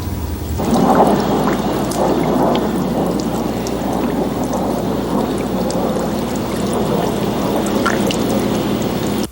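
A subsea H4 hydraulic connector is driven by plain city water pressure, giving a loud, continuous rushing roar of flowing water with a low mechanical rumble that starts abruptly and holds steady.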